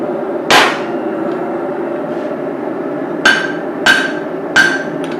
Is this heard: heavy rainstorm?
no